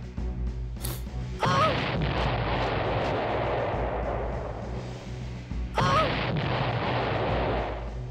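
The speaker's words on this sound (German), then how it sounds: "Jeder kennt es, die explodierenden Kanonenkugeln." Cannonballs exploding in a pirate video game: two heavy booming blasts, one near the start and one later, each followed by a long rumbling crash and debris noise over a constant low background.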